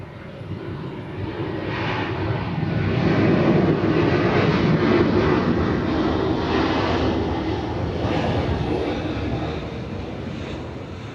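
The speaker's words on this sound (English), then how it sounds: "Delta 1415 coming in from Richmond, Virginia, 737-900." A Delta Boeing 737-900 arriving at Atlanta airport gives a loud, sustained broadband engine roar that swells to a peak midway through and then eases slightly, with no voices over it.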